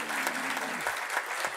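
A lecture audience claps in a short burst of applause, a dense, even patter of many hands heard at moderate distance, with no talk over it.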